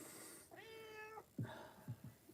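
A cat meows during a livestream, one drawn-out meow followed by a few shorter chirping calls, close and fairly clear over a quiet room.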